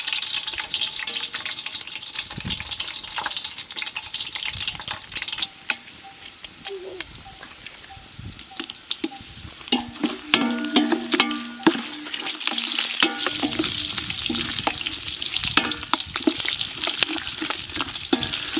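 Dried red chillies and fennel seeds frying in hot oil for a Chettinad crab gravy, a steady close sizzle with occasional stirring clinks and scrapes running throughout.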